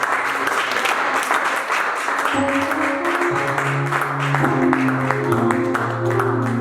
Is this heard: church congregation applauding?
yes